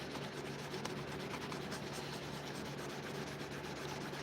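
Steady, continuous rubbing of a knife blade across sandpaper during polishing, a dense even scraping hiss that runs without pause and stays close and fairly loud.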